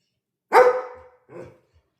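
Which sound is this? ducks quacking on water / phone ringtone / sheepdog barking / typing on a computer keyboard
sheepdog barking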